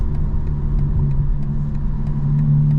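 A 2025 BMW M4 Competition xDrive with its exhaust valves open idles in a steady, deep low rumble, close and continuous, with no talk over it.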